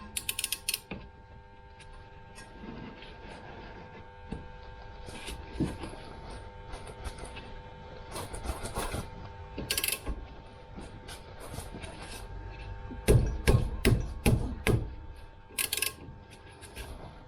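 Screw being tightened with a ratcheting tool while fitting front brake pads on a Toyota Celica MkVII 1.8 GT, giving quiet intermittent clicks and metallic ratchet bursts, including a louder cluster near the end, with no talking.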